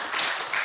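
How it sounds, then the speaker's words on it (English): An audience gives a round of applause at a gathering, a brief burst of many hands clapping that continues without a break. "Let's give him a round of applause, everybody."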